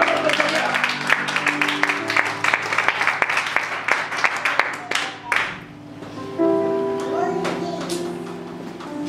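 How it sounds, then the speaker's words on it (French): A church congregation applauding and cheering for the Lord: dense, steady clapping under a voice and sustained music, briefly dipping midway before the applause and music swell again. "Acclamons très très fort notre Seigneur."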